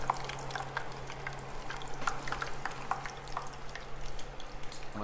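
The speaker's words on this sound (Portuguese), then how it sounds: "Deixa ele fritando." Fish fries in a pan of hot oil, a quiet, steady sizzle with scattered crackles and pops over a low constant hum, no one talking.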